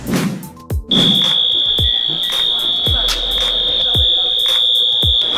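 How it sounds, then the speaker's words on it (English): An alarm sounds as a loud, steady high-pitched electronic tone that holds throughout, with a few low thumps and knocks underneath. "it might have set off some kind of alarm"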